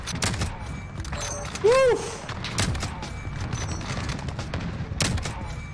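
Sniper rifles from an AX50 and HDR loadout fire in Modern Warfare multiplayer as a scatter of sharp, spaced shots over game ambience. A voice gives a short excited shout partway through.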